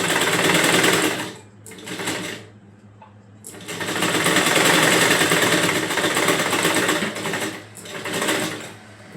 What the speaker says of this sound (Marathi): अशा प्रकारे आपली प्रॉपर अर्धा इंचावर शिलाई मारून झालेली आहे